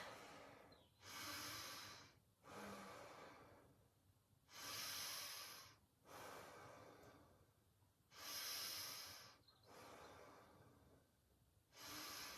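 Deep, slow yoga breaths during a sun salutation flow, each long inhale and exhale rising and falling in a steady rhythm, close and clear with no talking.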